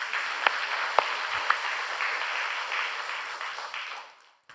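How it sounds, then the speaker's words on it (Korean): Church congregation applauding during a Sunday sermon, a steady wash of claps lasting about four seconds with a few sharper individual claps on top, then tapering off quickly into near silence. "우리 하나님께 박수로 영광 돌립니다."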